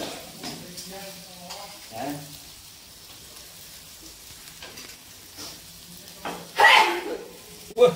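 Coriander sizzles steadily in a pan with occasional stirring scrapes while beef tongseng is cooked, a person speaking briefly over it; a louder spatter flares near the end.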